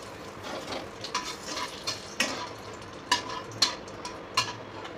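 Bay leaves and whole garam masala spices fry in hot oil for a Bengali chicken curry, giving a steady soft sizzle broken by a spoon scraping and tapping against the pan at irregular intervals.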